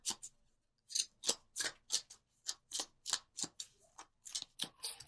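Tarot cards are shuffled and pulled from a deck, a quick series of crisp, close riffling snaps in an uneven rhythm after a brief pause, quiet and alone.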